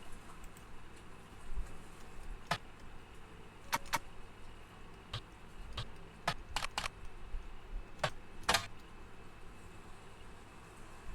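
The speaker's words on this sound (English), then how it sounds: "So I gotta do actual typing then." Computer keyboard typing in the game The Roottrees Are Dead, scattered clicky keystrokes coming in short irregular bursts, close and moderately loud over steady background hiss.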